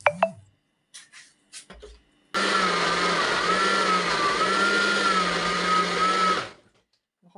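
An electric blender whirs steadily for about four seconds as it purées a chicken marinade of peppers, onion and garlic, starting abruptly and winding down, with a few clunks beforehand.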